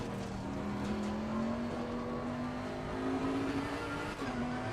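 A race car engine in the racing game Assetto Corsa Competizione drones steadily at high revs, its tone climbing slowly and dipping briefly near the end, loud and continuous with no talking.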